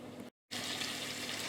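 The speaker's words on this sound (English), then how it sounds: "I'm going to put this in. And I'm going to get these all fried up." Loud, steady sizzling of pork cutlets frying in hot oil, cut by a brief silent gap before the crackle resumes.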